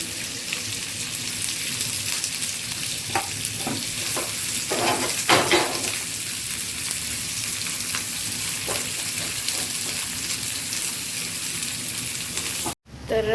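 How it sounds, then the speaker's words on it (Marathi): Vertically sliced onion roasts in a pan for a Kolhapuri tambda pandhra rassa, giving a continuous broadband frying hiss with a few scraping stirs near the middle before a brief drop-out near the end. "आता मम्मी कांदा भाजून घेते"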